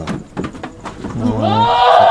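A young goat of about a year bleats loudly on a goat-fattening farm, a long wavering cry rising after a few short knocks and some faint background talk.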